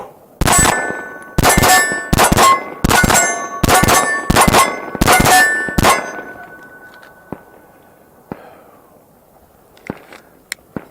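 A Bear Creek Arsenal Grizzly BC-102 Glock-clone pistol fires a fast string of about nine sharp, loud shots with a metallic ring. A few faint clicks and handling taps follow in the quiet afterward.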